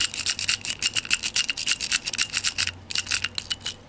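A lock pick scrubbing back and forth across the pins of a lock produces rapid, bright metallic scratching and clicking strokes in quick irregular bursts, close and sharp, with no voices.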